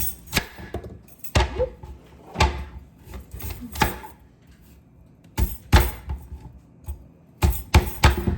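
Knife chopping vegetables into small dice on a cutting board, sharp close thuds in irregular bursts with quiet pauses between, no voices.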